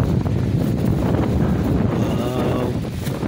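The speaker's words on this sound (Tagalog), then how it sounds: "kanindot sa hangin" Wind blowing outdoors at a nature campsite, buffeting the microphone as a loud, continuous low rumble with no clear pauses.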